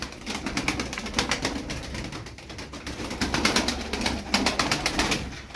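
Tumbler pigeons, a colourful flock of around a dozen birds, coo steadily and overlap in soft, low, throaty rolls close by, with faint rustling and occasional wing flutters throughout.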